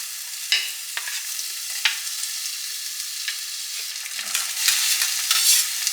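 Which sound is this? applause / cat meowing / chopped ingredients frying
chopped ingredients frying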